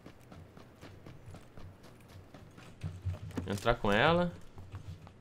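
A character runs in PUBG: Battlegrounds, with quick, rhythmic footfalls pattering steadily underneath as players talk, one voice rising loudly near the end.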